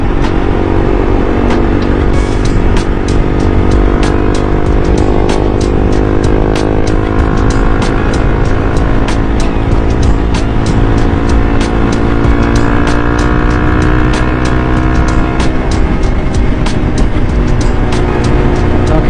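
A 300cc motorcycle cruises along the I-290 highway into downtown Chicago, its engine droning loud and close in a steady, unbroken roar with passing wind and road noise.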